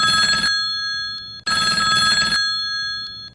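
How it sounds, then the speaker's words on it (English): A classic telephone bell rings in two long, loud metallic bursts separated by a short pause, clear and close with nothing else heard. "how did the classic humble telephone ring originate?"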